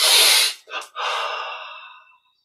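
A person draws in a deep breath during a yoga meditation exercise, a close airy inhale followed by a brief pause and a second longer breath that fades out, with no words spoken.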